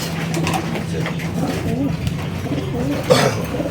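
Racing pigeons coo softly in a loft, low rolling calls repeating throughout with a slightly louder burst near the end, while a person talks over them.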